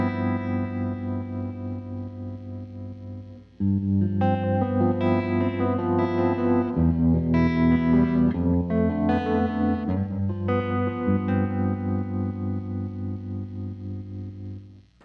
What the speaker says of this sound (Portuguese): Mas o trêmulo, que é o meu favorito, soa assim, é muito bonito.